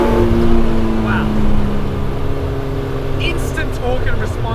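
A Honda CRX with a swapped K24 K-series engine hums and rises steadily in pitch as it accelerates, loud and close, with a constant low rumble of road and cabin noise.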